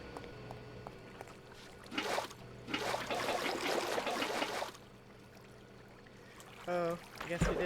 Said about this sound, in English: And we're going to go fill them up with water.